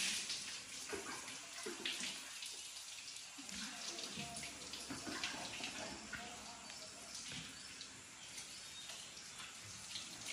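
Water pouring down from a tap during a water therapy session, a faint running splash with irregular surges, heard alongside occasional quiet voices.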